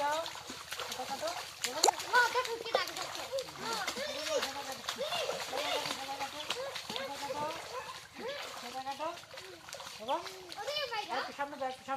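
A small child learning to swim splashes in water with irregular sloshes and paddling, while adults and someone talk loudly nearby throughout.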